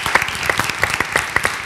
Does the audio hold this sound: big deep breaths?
no